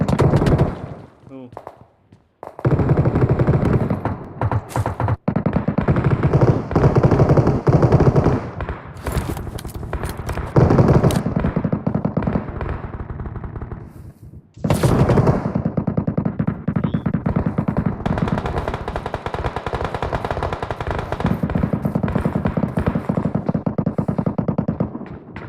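Machine gun fire in the video game Metro Royale, loud sustained bursts of automatic shooting over most of the stretch, with a short lull in the middle, mixed with game sounds and talk.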